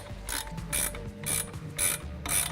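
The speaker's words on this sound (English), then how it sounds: "You'll want to remove the 14mm nut up top." Ratchet wrench loosening the 14mm upper nut on a Jeep Wrangler TJ shock absorber during a lift kit install, five quick bursts of rapid clicking close up, evenly spaced with brief pauses between strokes.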